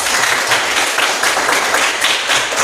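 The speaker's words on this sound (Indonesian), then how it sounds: "Tepuk tangan semua." A classroom of students claps together, a dense, loud burst of many hands at close range that holds steady throughout.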